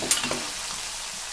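Cooked dal, soybean chunks and potato tipped into a hot pan, a brief splash and clatter at the start giving way to a steady sizzle, close and fairly loud.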